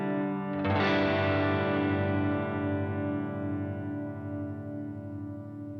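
A guitar strums one sustained chord, a single bright attack that rings out and slowly decays, with heavy effects coloring it; no other chord changes are evident.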